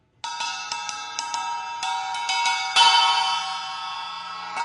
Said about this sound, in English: This is a 12-inch Paiste sound formula flange bell.